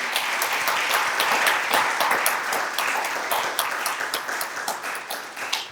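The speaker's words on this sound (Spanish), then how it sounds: "Dele un aplauso de alabanza al Rey de Reyes." A church congregation claps in praise during a sermon, a thick, lively wave of applause that gradually loosens into separate claps near the end.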